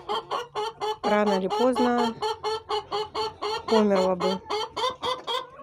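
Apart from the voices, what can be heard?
chickens and roosters clucking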